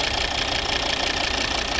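A 2013 Volvo V60 R-Design with the 2.4 D5 AWD diesel idles steadily up close, a continuous even clatter and hum with no voices over it.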